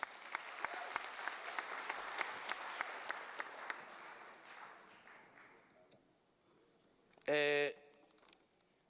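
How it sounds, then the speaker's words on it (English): A crowd at a matric excellence awards ceremony applauding steadily for several seconds and gradually fading out, followed by a short, loud electronic tone. "Let us give them a round of applause."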